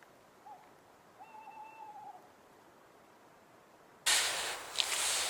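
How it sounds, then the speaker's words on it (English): An owl hoots at night in the Lairig Ghru, two faint, distant drawn-out calls in a quiet setting, followed by a sudden loud rustling hiss close by. "I could hear an owl give me a fright"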